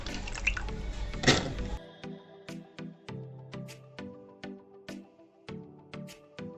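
Soaked, washed rajma beans are scooped into a pressure cooker. A wet, splashy burst of water comes first, then a run of soft, evenly spaced squishy plops and drips, close and quiet.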